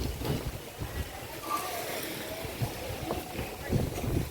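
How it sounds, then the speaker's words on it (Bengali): Strong gusting wind of a rising storm buffets the microphone in a low, continuous roar with rushing surges, moderately loud and close, with no clear voices. "ঝড় উঠে গেছে"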